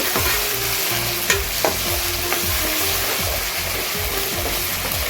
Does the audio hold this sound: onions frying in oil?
yes